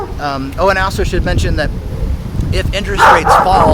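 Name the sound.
dog barking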